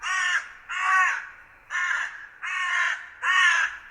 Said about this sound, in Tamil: ஒரு நாள் ஒரு காகம் மிகவும் தாகமாக இருந்தது.